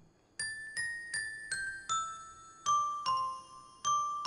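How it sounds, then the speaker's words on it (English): A Winnie the Pooh video game doorbell chimes out a theme-song melody, eight bright bell-like notes rising and falling in a steady rhythm, clear and alone with no voices. "Dang, Pooh's got an advanced doorbell."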